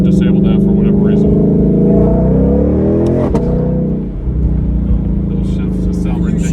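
A DCT-equipped 2020 Ford Mustang GT500 climbs through the revs with loud, rising engine sweeps, broken by a sharp crack at a quick gear shift before it pulls up again.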